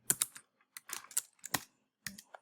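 Quick bursts of keystrokes on a computer keyboard, close and fairly quiet, in short irregular clusters with small gaps.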